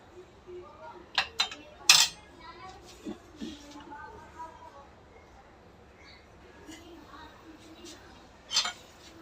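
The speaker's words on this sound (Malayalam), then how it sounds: "ഇനി തവി കൊണ്ടൊന്ന് ഇളക്കിയതിന് ശേഷം ഗ്യാസ് ഓണാക്കിയിട്ട് നന്നായി തിളപ്പിച്ചെടുക്കാം" A ladle clinks and scrapes against a pot while tomato pappadam curry is stirred, a few sharp metallic knocks over quiet kitchen background with brief voices.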